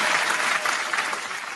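Dense audience applause at a mixshow, a steady wash of many hands clapping at full volume throughout with no voices on top.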